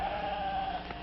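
A sheep bleats, a single sustained wavering call heard close, amid a steady background hiss.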